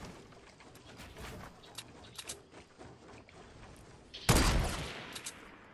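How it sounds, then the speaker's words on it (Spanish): Gunfire in the Fortnite video game: scattered distant shots early on, then a loud close burst of rapid firing near the end that rings out and fades. "¿Quién me dispara?"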